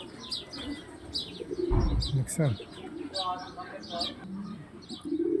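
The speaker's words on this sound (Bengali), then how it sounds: "এই যে দেখেন পাশে কবুতরও আছে, মুরগিও আছে একসাথে" Pigeons coo and birds chirp in a busy coop where pigeons and chickens are kept together, with wing flutters and a person speaking briefly over the calls.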